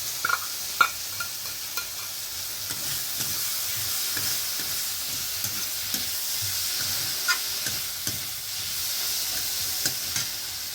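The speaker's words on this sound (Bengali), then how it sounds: "লাল লাল করে একটু ভেজে নিয়েছি পোস্ত দিয়ে" Onion, potato and poppy seed paste frying in a pan for a pumpkin flower dish, a steady close hiss and sizzle with occasional stirring taps, continuous and without speech.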